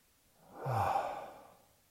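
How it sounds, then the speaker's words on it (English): A single deep breath is drawn in and let out slowly and close by, a soft airy rush that swells and then fades over about a second, with no talk. "that breathing pattern where you breathe in, 2, 3, 4, hold the breath at the top and let it out."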